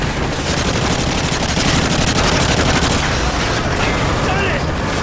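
Heavy, continuous gunfire in a Call of Duty Modern Warfare cutscene, a dense, loud barrage of rapid shots throughout with shouting voices mixed in.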